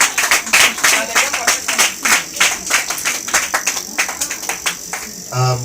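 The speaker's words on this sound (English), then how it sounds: "Let me put your hands together for Mr. John Tully." Guests at a baby's naming ceremony clap in a lively, uneven burst of hands, loud and close, gradually thinning toward the end as a voice starts to speak.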